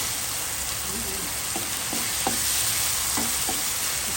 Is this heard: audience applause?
no